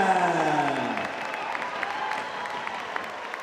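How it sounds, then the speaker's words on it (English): Crowd cheers and applauds after a first-round knockout at a Cage Contender MMA event, a loud burst of clapping and shouting that gradually settles but keeps going. "The crowd going wild"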